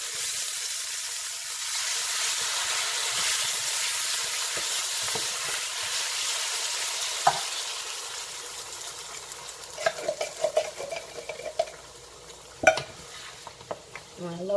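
Coconut cream goes into a hot pan for lobster curry, a steady soft sizzle and hiss that breaks into sharper crackles and stirring clinks toward the end.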